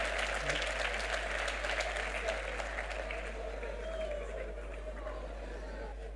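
Audience at a stand-up comedy show clapping, a dense, sustained burst of applause that gradually softens over several seconds, with a low steady hum underneath.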